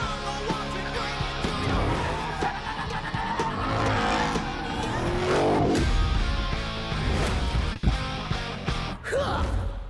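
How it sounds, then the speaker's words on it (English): The fastest production truck accelerates hard with tires skidding at a corporate event, its roaring engine and squealing rubber blended into loud, continuous backing music. "The fastest production truck ever."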